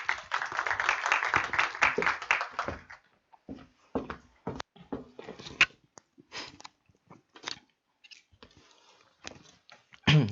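Applause welcomes presenters at an AI training program's final project presentation: a brief burst of clapping fades out within about three seconds, followed by scattered quiet knocks and shuffling in a near-silent room.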